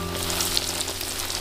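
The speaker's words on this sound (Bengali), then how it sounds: "বাদবাকিগুলো ঠিক এইভাবেই আমি ভেজে নেব।" Vegetable chops frying in hot oil with an egg batter, a loud steady sizzle and fine crackling close by, continuous and alone.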